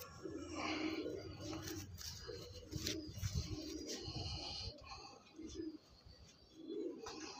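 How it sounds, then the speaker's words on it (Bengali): Domestic pigeons of a Domjur line coo in a loft, low repeated rumbling calls running through the whole stretch alongside some shuffling and faint background noise. "দেখতে পাচ্ছেন বন্ধু দুমের পায়রা আছে"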